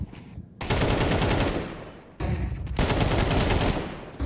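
AK rifle gunfire in a Counter-Strike esports match, heard as loud sustained automatic bursts in two long strings broken by short pauses, with dense rapid shots.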